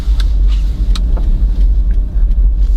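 A 2004 Lexus RX 300 cruising on the road, heard from inside as a steady low tyre and engine rumble with faint scattered ticks, hushed and even, no voices.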